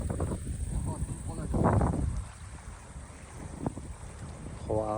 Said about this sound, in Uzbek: Shamol bo'lyapti